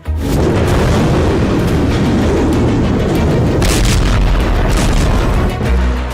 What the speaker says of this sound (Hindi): ताबड़तोड़ बम धमाका,